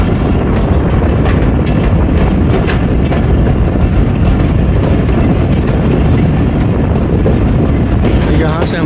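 The 38 Down Baba Fareed Express runs toward Kasur Junction, giving a steady, loud, continuous rumble of train noise with faint rhythmic rail clatter and no clear pauses.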